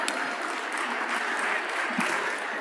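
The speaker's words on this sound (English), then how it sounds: "Give yourselves a round of applause." Conference attendees at a keynote give a dense, moderately loud round of applause that stays sustained and even throughout, heard from within the crowd.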